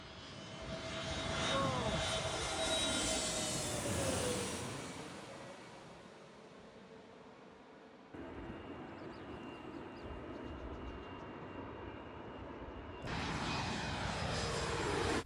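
A loud airplane roars low overhead at a plane-spotting area in Washington, DC, its engine noise swelling and then fading as it passes, with a steady rumble continuing afterward.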